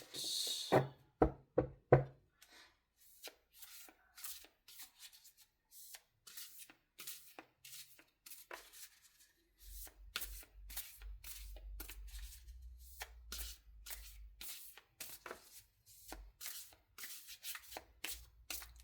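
A deck of cards riffled and tapped in quick bursts, followed by a steady run of soft card flicks over a low rumble, close and fairly quiet.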